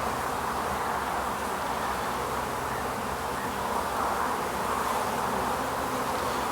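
Honey bees in an opened beehive during a colony split, a dense, continuous buzzing swarm drone filling the space at close range, steady throughout.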